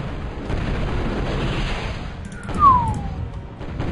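Missile fire in the Total Annihilation strategy game: a rising whoosh streaks past at mid-distance over a steady low rumble of distant battle, with a few faint thuds around it.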